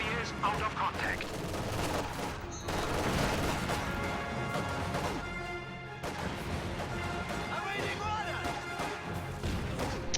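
Rifle grenade blasts and rattling gunfire from a multiplayer war video game, loud and continuous through the whole stretch, with dense crashes overlapping game voice lines and commentary.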